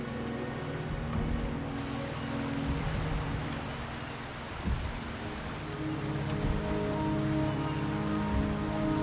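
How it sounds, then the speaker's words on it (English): Steady rain pours in the video game Wuthering Waves, a dense continuous hiss with low rumbling undertones, constant and fairly loud throughout with no voices. "The rain is subsiding, and the sky will soon clear."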